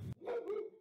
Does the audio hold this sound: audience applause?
no